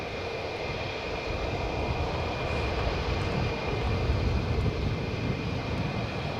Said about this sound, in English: DC 9 gear down, still great to see F-15s.